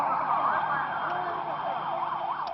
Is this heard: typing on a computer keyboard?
no